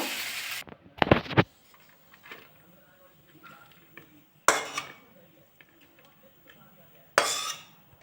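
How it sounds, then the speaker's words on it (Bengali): Chow mein stirred in a pan: a few sharp metallic scrapes and clinks of a utensil against the pan, spaced apart with quieter gaps of light frying between them. "এবার আমার হয়ে গেছে আমি এবার নাড়িয়ে নেব"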